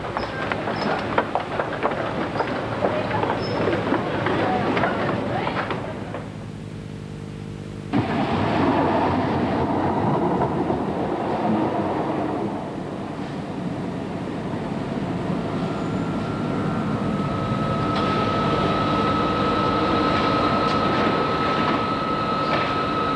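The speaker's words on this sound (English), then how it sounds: "We've seen all the trains come in." A Tyneside Metro train rumbles and clatters steadily through, with screeching wheels and a long humming tone as it slows into the station, loud and continuous.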